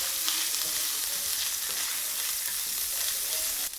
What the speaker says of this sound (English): So put that in and saute it.